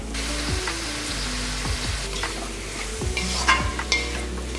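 Boiled elephant foot yam sizzles in a hot pan of frying masala as a utensil scrapes and stirs repeatedly, with irregular clanks and a continuous frying hiss underneath.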